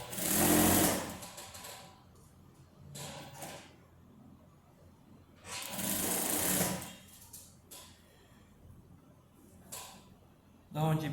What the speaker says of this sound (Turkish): Bir dikiş payıyla vuruyorum arkadaşlar